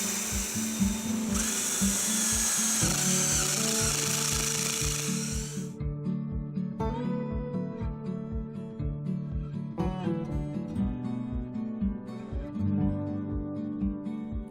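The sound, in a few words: power drill drilling quarter-inch bolt holes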